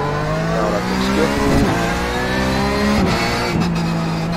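Porsche 911 GT3 engine in iRacing at the Nürburgring Sprint circuit, holding a steady loud drone with rising revs that briefly drop at gear changes around one and a half, three and three and a half seconds.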